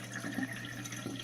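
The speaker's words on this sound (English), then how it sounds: "water's still coming out pretty good" Water drains out of a homemade aquaponics bell siphon into a tank below, a soft continuous trickling flow with a low hum beneath it, faint and without talking.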